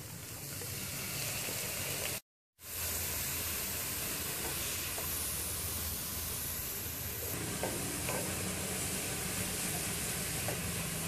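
Cabbage, carrot and capsicum frying with onions in a pan for vegetable cutlets, a steady close sizzle and hiss with light stirring throughout, broken by a brief silent gap early on.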